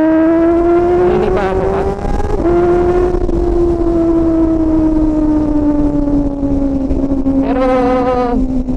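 A loud four-cylinder motorcycle engine holds a high, steady revving whine that slowly drops in pitch, with a brief rise near the end, while a voice speaks briefly over it.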